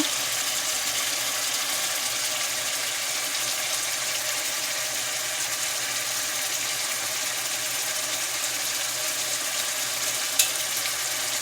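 Ackee frying in a pan of cooking oil for a Jamaican ackee and red herring dish, giving a steady, even hiss and sizzle that holds at one level throughout with no talk over it.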